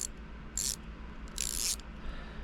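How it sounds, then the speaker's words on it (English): Ratchet wrench adapter clicking in two short, quiet bursts of rapid ratcheting clicks against a low background hum. "now what you made yourself was a ratchet and wrench"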